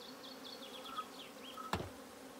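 Dense, close buzzing of honey bees at an opened spring nuc colony being split, with a short sharp knock near the end and faint chirps in the background.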